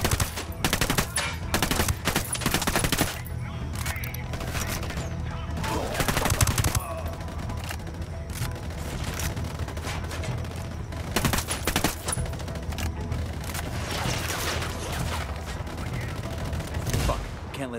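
Heavy automatic gunfire from Sicarios cartel enemies in Ghost Recon Wildlands, with loud overlapping machine gun bursts and shots continuing throughout amid battle noise.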